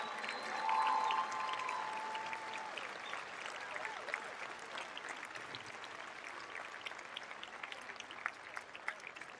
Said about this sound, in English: would you give an overwhelming applause for every black man who's around you